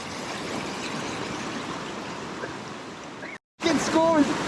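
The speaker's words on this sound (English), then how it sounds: "this is a really cool stream." Cold mountain stream in the Parvati Valley on a trek from Chalal to Kasol, rushing water heard close and steady, a brief dropout near the end followed by a voice over the flow.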